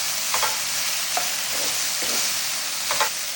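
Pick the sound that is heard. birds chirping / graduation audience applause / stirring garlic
stirring garlic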